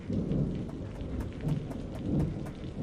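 Steady rain falls with low rolling thunder in a dark, stormy night, a continuous wash of drops and deep rumbles swelling and fading throughout, with no voices.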